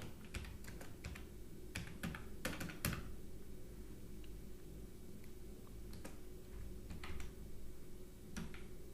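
Keys clatter on a computer keyboard as a project folder name is typed, with short bursts of quick taps separated by pauses over a low steady room hum.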